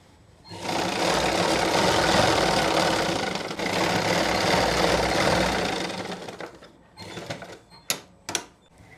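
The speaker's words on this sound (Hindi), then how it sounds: "अब हम बीच में सिलाई लगा देंगे इसको खींच के" A domestic sewing machine stitches the centre of a pant waistband with a front belt and elastic back, running in a steady continuous whir for about six seconds, then stopping and starting in short bursts.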